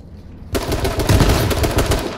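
AK automatic rifle fire in a video game, a sudden sustained burst of rapid loud shots starting after a short quiet moment and continuing to the end.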